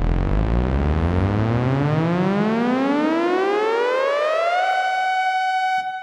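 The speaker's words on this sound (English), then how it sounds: "So what I've got there is a synth rise that I use when I play this chord." Pitch-rise synth patch built on the Nautilus, a loud buzzy tone sweeping steadily upward for about five seconds, then holding a high note before cutting off, with no talking.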